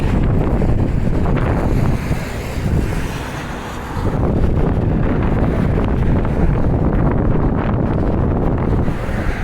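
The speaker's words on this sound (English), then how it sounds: "Hope you don't mind the wind because it's very windy up here." Strong wind buffets the microphone with a loud, constant roar and rumble that eases briefly before gusting back up.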